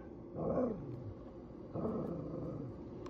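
Two low, muffled whimpering cries come from a small puppy stuck in a muddy drainage ditch, each about a second long and separated by a pause. They are faint and distant over a dull background rumble.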